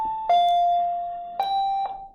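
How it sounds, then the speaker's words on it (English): A home doorbell chimes twice with clear ding-dong tones, sounding close and fairly loud and ringing out briefly before fading, with no talking over it. "Sorry, that was our bell."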